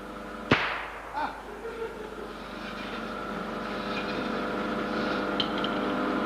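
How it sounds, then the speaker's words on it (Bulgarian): A single sharp shot cracks on stage, then a couple of fainter knocks follow before a rising roar of crowd noise and room ambience fills the rest, during a variety-club stage show. "имате ли готовност отново да стреляте?"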